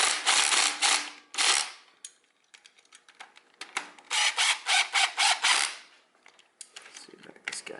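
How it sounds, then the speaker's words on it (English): A ratchet tightens bolts during a jockey shifter and suicide clutch install on a custom motorcycle, giving close bursts of rapid clicking separated by short pauses, with a brief quiet stretch partway through. "Tighten them up to the torque specifications found in your service manual."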